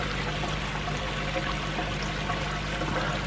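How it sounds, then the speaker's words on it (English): Water from a Bakki shower splashes steadily onto plant roots, a continuous close hiss of pouring and trickling with no breaks. "because the water's splashing on the roots"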